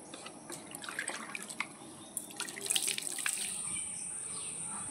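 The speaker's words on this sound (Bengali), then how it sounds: "এবার মাথাটা ধুয়ে নেবো। দেখুন কত কালো কুচকুচে জল বেরাচ্ছে।" Running water splashes through hair as black dye is rinsed out, an uneven stream of gushes and drips close by, rising and falling in intensity, with no talking.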